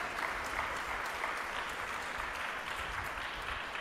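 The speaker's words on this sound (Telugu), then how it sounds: "చప్పట్లు గట్టి కొట్టి దేవుని స్తుతించాడు." A church congregation claps loudly in praise, a dense, steady roar of applause from many hands throughout.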